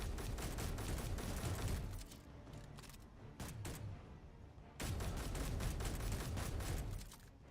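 Sustained automatic weapon fire while shooting enemies in Space Engineers survival, dense and loud, with a short break in the middle before another long, rapid burst.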